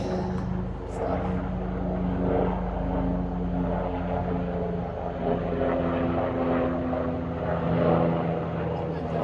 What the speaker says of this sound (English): Maybe it's just the rescue helicopter.